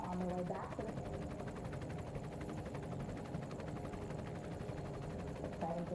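A recovery helicopter at the Artemis crew splashdown: the rotor thumps in a fast, steady chop over a low engine drone, moderately close, with brief indistinct voices near the start and end.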